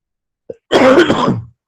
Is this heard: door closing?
no